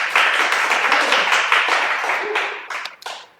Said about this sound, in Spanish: Denle un aplauso a Norma.